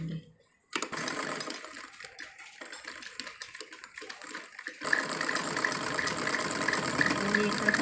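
A sewing machine runs a double line of stitching along a folded seam on a salwar, with steady, rapid, fairly close mechanical whirring after a brief pause at the start.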